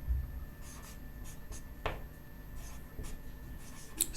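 A pen or marker writes the Hindi word sangam on a board in quiet, close strokes, a few short scratchy scrapes with pauses between them.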